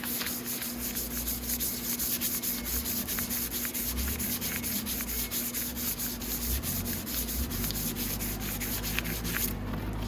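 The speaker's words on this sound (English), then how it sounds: "I will stuff it really good with a nice fine sandpaper when I'm all done." Fine sandpaper rubs steadily and quietly across a part during restoration of a Venom 250cc chopper motorcycle, a continuous close scratching that runs without pause and with no speech.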